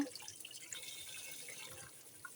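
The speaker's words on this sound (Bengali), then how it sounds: "এই যে সুন্দর করে ধুয়ে নিচ্ছি" Guavas being rinsed under running tap water at a sink, with a soft, steady trickle and scattered drips, quiet and close, no talking.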